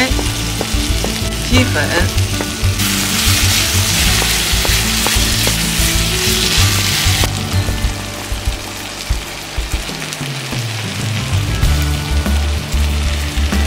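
Eggplant stir-fried in a hot pan gives a loud, steady sizzle with repeated spatula scrapes and stirring knocks throughout, and a voice speaks only briefly.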